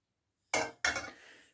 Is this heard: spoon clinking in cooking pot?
yes